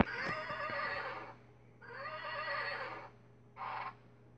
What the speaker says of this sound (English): That's just my sister sitting on her rocking horse.